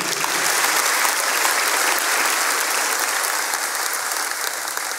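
A church congregation gives strong, continuous applause during a service, loud and dense, holding steady before easing slightly toward the end.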